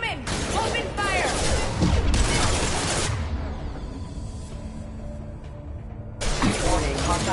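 Gunfire erupts in a Mass Effect 2 combat scene, loud bursts of rapid shots for about three seconds, a quieter stretch, then another burst, with a voice briefly heard amid the shooting.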